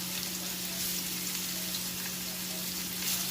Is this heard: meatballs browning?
yes